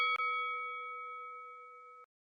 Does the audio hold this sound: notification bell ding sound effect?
yes